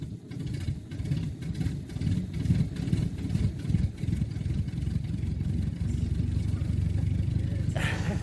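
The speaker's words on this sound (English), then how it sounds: "Gentlemen, start your engines!" Several race car engines rumble and idle together at a steady low pitch, loud and continuous, for a space race circling Saturn.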